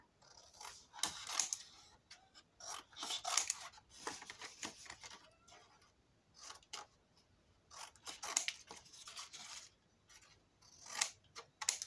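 Scissors snip at the corners of a handmade holiday suitcase craft, giving a quiet, close series of crisp cuts in short clusters with pauses between them.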